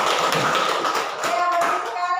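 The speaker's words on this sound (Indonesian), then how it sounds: "Kita berikan tepuk tangan untuk kelompok" A classroom group gives brief applause after a group presentation, a short burst of hand clapping with a voice mixed in.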